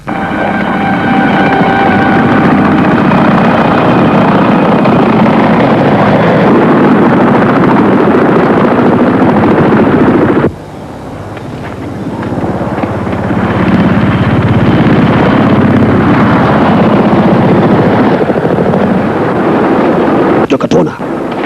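A helicopter flies over a forest chase in an action film, making a loud, continuous rotor roar that dips briefly midway and then swells back to full strength.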